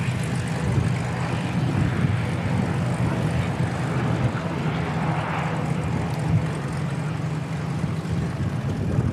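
A Boeing 747-400 freighter departs Christchurch Airport, its engines giving a steady, loud broadband jet roar with a deep low rumble that holds constant throughout, with no talk.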